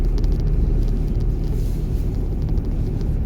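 Car engine during a driving lesson as the accelerator is pressed gently, a loud continuous low rumble from inside the vehicle, steady with slight swells and no talk.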